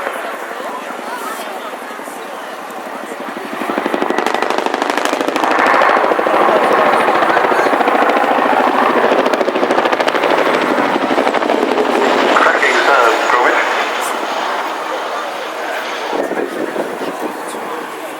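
A Chinook tandem-rotor helicopter performing a flying display at the Cosford Airshow in 2015, its loud rotor and engine roar swelling near the midpoint and staying strong, mixed with crowd and commentary-like voices.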